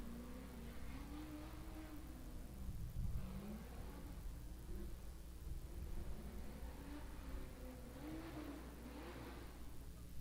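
Far off at a drag strip, a race car idles in the burnout box warming its tires, its engine rising and falling in a faint, wavering drone under heavy broadband noise.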